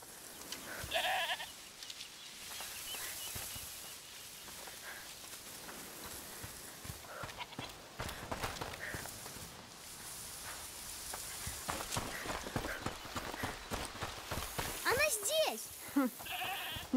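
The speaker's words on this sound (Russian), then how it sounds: "Слышишь? Это та коза, о которой он говорил?" A goat bleats in the video game A Plague Tale: Requiem, its wavering cries rising near the end over a steady ambient game soundscape with scattered clatter; people talk in between.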